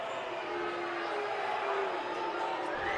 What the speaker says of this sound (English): As the crowd lets the referee hear it.